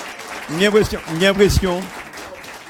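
An audience applauds at a Caribbean-themed Christmas decoration contest; steady clapping runs underneath as someone speaks loudly over it.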